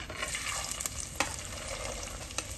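Grated coconut is tipped into a pan of frying ginger and stirred, producing a close, steady sizzle with scraping stirring strokes and a few soft knocks.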